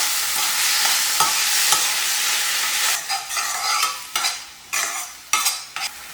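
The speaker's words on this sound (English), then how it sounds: "in a pan with a tablespoon of coconut oil, a teaspoon of cumin seeds, 1 large onion which is finely chopped that I sauteed first" Finely chopped onion and tomatoes sauté in coconut oil with cumin seeds, giving a loud, bright hiss that opens steadily, then breaks into bursts of sizzle as the pan is stirred, with no voices.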